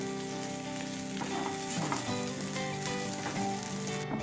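Cooked cassava and prawns being stirred together in a hot pan for Kerala-style kappa puzhukku, giving a steady, soft sizzle with scraping stir sounds layered over it, no voices.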